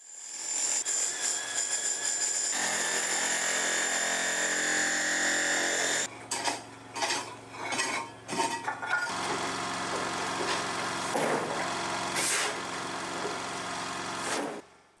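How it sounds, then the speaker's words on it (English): A power chisel chipping away rock from a concrete-backed stone wall during floor-lowering work, a steady loud buzzing grind for the first six seconds, then bursts of hammering with short pauses, continuing steadily to the end. "I was back to removing rock with the power chisel"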